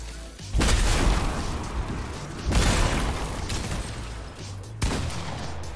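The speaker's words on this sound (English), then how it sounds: "everybody has rail guns" Rail gun shots in Fortnite, three heavy booming blasts spaced about two seconds apart, each with a long rumbling decay, loud and close.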